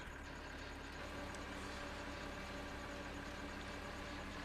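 Tractor engine in the farming video game Farming Simulator 2013, a low steady idling drone with a constant hum, faint and unchanging throughout, with no voices.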